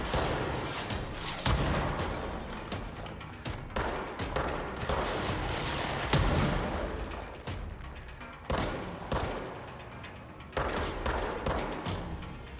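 Gunfire in the video game Control, dense bursts of rapid shots and booms that repeat in loud volleys with short gaps between them. No one talks.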